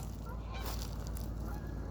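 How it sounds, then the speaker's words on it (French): Geese honk repeatedly as a flock by a river in northern country, calls overlapping against a steady outdoor background. "Ah, les oiseaux magnifiques."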